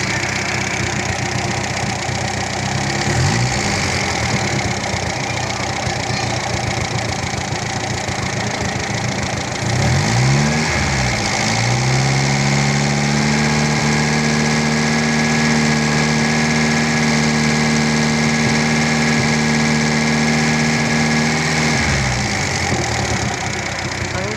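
An owner-type jeep engine running loud and close, idling with a rough knocking rhythm, then revved in a couple of swells and held at higher speed for several seconds before dropping back to idle.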